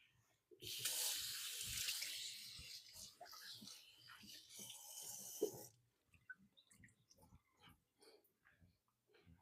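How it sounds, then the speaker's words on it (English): Broccoli spears, with asparagus nearby, rinsed under a running kitchen tap; a steady rush of water for about five seconds, then stops, followed by quieter handling sounds and faint voice. "Give them a quick rinse."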